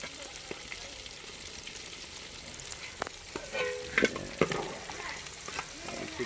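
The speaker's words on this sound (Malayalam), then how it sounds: "നമ്മുടെ ചിക്കൻ ഏകദേശം നല്ലോണം ഫ്രൈ ആയിട്ട് വന്നിട്ടുണ്ട്." Chicken pieces frying in oil in a pan for chicken kondattam, a steady close sizzle with a few louder stirring clatters and bursts in the second half.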